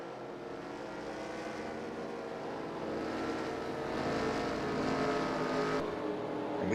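Race cars lapping the oval at Iowa in a racing series finale, a dense, continuous engine roar that builds slightly as the pack passes, heard from a distance with no talk over it.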